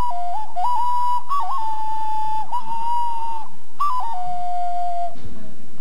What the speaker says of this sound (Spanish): Este es un pito, que hace muchos años lo tengo, la procedencia norteamericana, pero acá vendían también, que hacía los sonidos de pajaritos